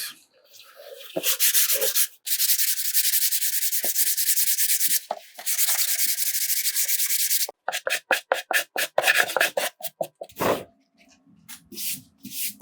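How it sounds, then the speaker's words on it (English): A board for a slipcase box is hand-sanded close by: two long, even rasping passes, then a run of quick, short rubbing strokes, with no voices. "Let me sand it a bit."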